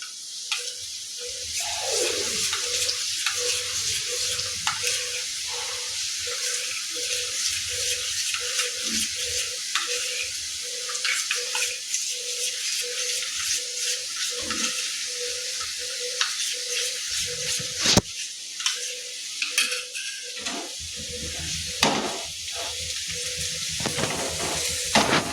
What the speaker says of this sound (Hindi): इसे अच्छी तरह मिला लेंगे।